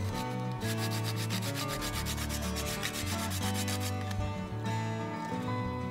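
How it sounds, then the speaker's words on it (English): Fresh nutmeg is rasped over apples for an apple crumble, a fast, steady scraping rhythm close by that slows briefly near the end. "we're gonna just grind a little bit of fresh nutmeg on there"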